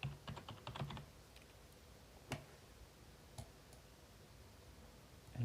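Someone types a file name on a computer keyboard: a quick run of close, crisp key clicks at the start, then a couple of isolated taps over quiet room hiss.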